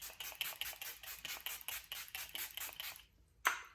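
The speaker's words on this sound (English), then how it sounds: "now let me just spray my face with this e.l.f." A regular train of short sprays or pumps from an e.l.f. coconut face mist bottle, about a dozen quick hissing bursts close by, then a brief pause and one more sharp burst.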